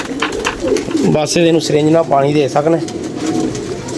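Pigeons coo in a rhythmic, throaty series close by while someone talks over them.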